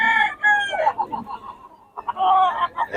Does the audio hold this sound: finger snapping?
no